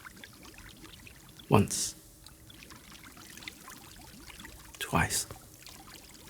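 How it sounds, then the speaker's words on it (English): Two separate splashes of a cleansing solution poured from a jug over people's heads, each a short gush with a trailing spatter, while a voice counts aloud between them. "Edhi takes the jug and pours the solution over their heads."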